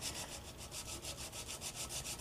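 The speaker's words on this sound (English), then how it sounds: "I just using a piece of key stock as a sanding block" A blade is wet sanded by hand with a piece of key stock used as a sanding block, a quiet rhythmic rasping of about a dozen steady back-and-forth strokes, close and alone.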